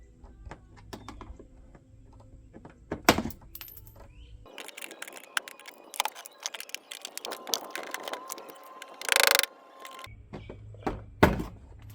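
Metal tools clinking and ratcheting as bolts come off the front fenders of a rare Land Rover Defender, with sharp taps, rattles and clatter in irregular bursts, close by and moderately loud.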